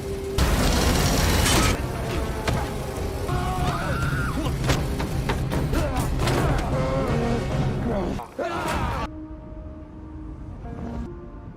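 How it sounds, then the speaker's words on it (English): An industrial crusher machine runs in an action-film scene, a loud, dense grinding and clattering roar with metallic knocks and booms that cuts off sharply near the end, leaving a quieter tonal hum. "Just as the crusher was about to swallow her"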